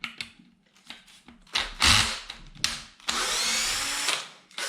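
A power tool drives out bolts from the underside of a Kraken VESLA 5th-scale RC car chassis, in short whirring bursts and a longer sustained run, close and loud, with no talk.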